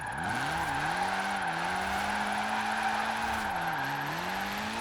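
A classic Citroen DS in Forza Horizon 4 held in constant wheelspin: a loud, sustained tire squeal over a droning engine whose pitch dips and rises slightly throughout.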